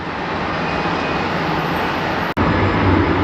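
A PSA Airlines regional jet taxiing out to the runway at Dallas Fort Worth airport, heard as a loud, steady engine roar nearby that drops out for an instant near the end.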